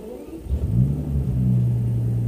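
A 2006 Bentley Continental GT with its 6.0-litre W12 engine revs up, a deep, loud bass rumble that swells and holds steady at close range with no talking.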